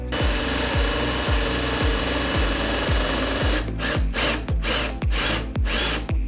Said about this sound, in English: So I drilled this bad boy out